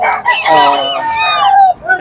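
A rooster crows once, loud and close, a long wavering cock-a-doodle-doo that stretches for about two seconds.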